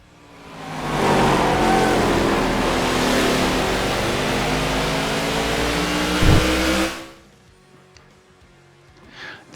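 A NASCAR race car engine roars by in the video game NASCAR The Game Inside Line, rising in and holding a loud, steady droning wail for several seconds before cutting away to near silence.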